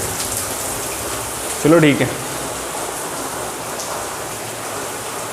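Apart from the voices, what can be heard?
heavy rain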